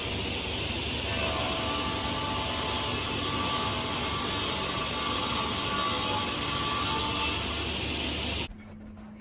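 A sliding saw trimming less than a millimetre off a wooden workpiece in a workshop, one loud, continuous high whine with a steady cut lasting several seconds before stopping abruptly.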